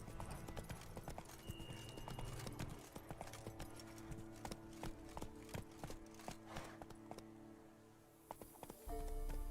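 Roach the horse galloping in The Witcher 3, rhythmic hoofbeats pounding steadily and fairly loud, with a short lull near the end before they pick up again.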